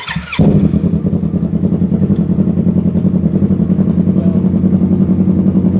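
A Yamaha R3 motorcycle engine fires up while in gear after a brief crank, then settles into a loud, steady, close idle with an even pulsing throb.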